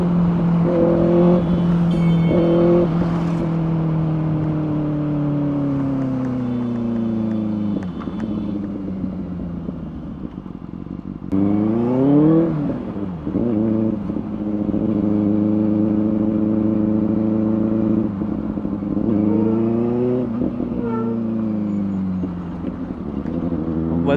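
A Benelli 600i motorcycle engine revs hard at full throttle, its loud, close exhaust note rising and falling in repeated sweeps, with a sharp climb near the middle.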